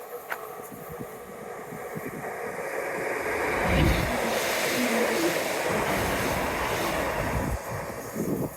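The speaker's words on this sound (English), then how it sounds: "I can hear a train behind me," A train passes near Mules Park and Holcombe Dip, a broad rumbling roar that swells from about three seconds, stays loud and steady, then eases slightly near the end, with outdoor wind noise throughout.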